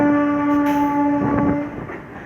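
A passenger train hauled by a WAP-4 electric locomotive, running from Varanasi City to Chhapra via Bhatni Junction, sounds a loud sustained horn for under two seconds over rumbling wheels, then the horn cuts off and the rolling train noise continues.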